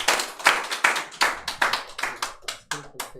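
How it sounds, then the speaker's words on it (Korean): A congregation at a Sunday worship service at Pagoda Church claps to welcome the pastor's wife, loud close claps falling into a fairly steady rhythmic beat that thins toward the end. "우리 한번 사모님 나오실 때 우리 한번 뜨겁게 한번 박수로 맞아주겠습니다"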